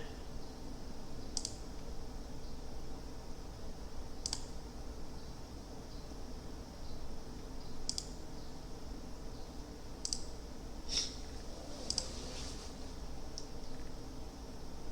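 Quick keyboard typing at a computer during an online bridge game, heard as sparse, faint clicks and short bursts of keystrokes scattered over a steady low background hum, with no talking.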